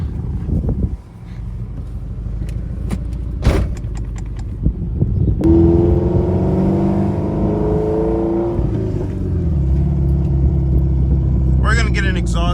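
A 2013 Scion FR-S, built for Uber Eats delivery, has its keys rattling and door clunks before the engine fires up and rumbles into a steady, revving run close by, the note climbing and shifting as it pulls away.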